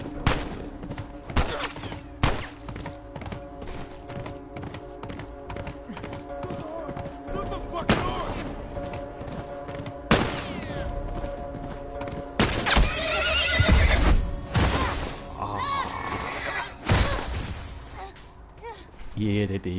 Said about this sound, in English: Yeah, they did shoot the horse.